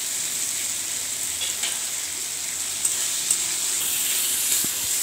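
Small pieces of boiled potato fry in a pan for ghugni, giving a steady, even sizzling hiss with a few faint stirring knocks and no voices.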